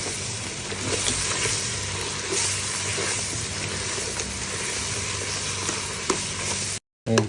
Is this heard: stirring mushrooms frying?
yes